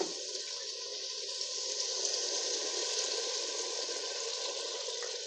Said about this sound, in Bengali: এতে দিয়ে আমি চিকেনটা সিদ্ধ করে নেব এখানে জল দিয়ে দেবো